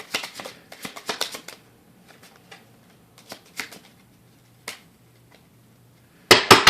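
Tarot cards are shuffled close by in quick papery riffles and taps, with bursts early, scattered single flicks through a quiet middle, and a louder flurry at the end; no one speaks.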